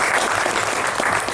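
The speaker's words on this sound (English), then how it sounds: "I think that deserves a round of applause" An audience at an entrepreneurs' storytelling session claps in a dense, loud burst of applause that fills the whole moment without pause.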